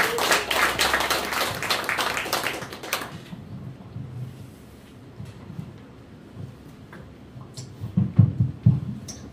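An audience at a literary talk event applauds the host in a brief burst of dense clapping that stops after about three seconds, followed by quiet room sound and scattered taps.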